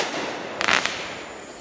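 A single firework mortar bursts at dusk on the Fourth of July, a sharp crackling blast lasting a fraction of a second, heard alone against faint outdoor background.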